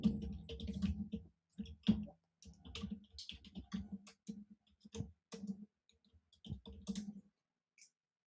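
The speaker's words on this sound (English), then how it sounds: "Just getting this all typed up." Steady bursts of typing on a computer keyboard, close and fairly quiet, with irregular key clicks coming in runs separated by short pauses.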